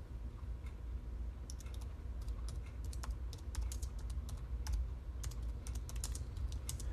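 Quick, light keystrokes on a computer keyboard entering a search, irregular clicks in short clusters, close but soft over a low background hum.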